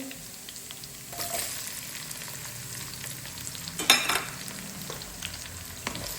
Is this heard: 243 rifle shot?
no